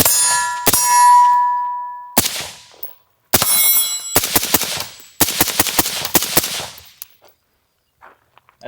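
PSA JAKL rifle fired in a few single shots and quick strings of sharp, loud reports, each ringing briefly with a metallic clang before falling to silence.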